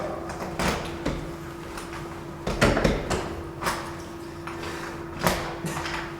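Doors at a vocational college in Helsinki open and close several times over a steady hum, giving a series of moderate knocks and rattles at irregular intervals.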